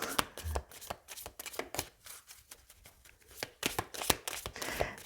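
A deck of oracle cards is shuffled by hand at close range, producing quick, repeated riffling and flicking bursts in an irregular rhythm with no talking.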